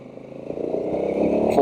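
A Honda Africa Twin 1100 automatic adventure bike with electronic shifting runs at full throttle, its engine droning and climbing in pitch close up, with a quick gear change near the end as the tone jumps.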